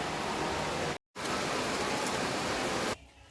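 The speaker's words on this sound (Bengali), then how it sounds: "এখন চড়বড় করে বৃষ্টি নামিয়ে দিল" Heavy monsoon rain pours steadily over a Kerala village home, a dense, even hiss of drops that stops abruptly for a moment and then resumes, thinning near the end.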